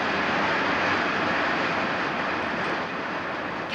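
A steady, loud rumble and roar of a British Rail HST diesel train, class 43 power car, running, heard from inside the cab, continuous throughout with no voices.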